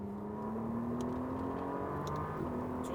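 A McLaren 720S engine pulls hard at full throttle on a racing circuit, a sustained rising drone heard from inside the car, steady and loud with no talking.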